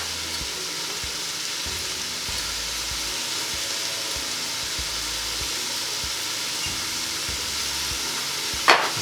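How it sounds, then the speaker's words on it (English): Leeks sautéing in a pot for vegan leek and potato soup, a steady soft sizzle with faint stirring scrapes throughout, close and alone, ending in a brief sharp clatter. "Just giving it a good stir."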